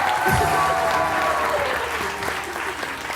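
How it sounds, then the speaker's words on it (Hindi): A television studio audience at a morning show applauds steadily, a dense patter of many hands clapping that fades slightly toward the end. "इस पे भी तालियां होती हैं।"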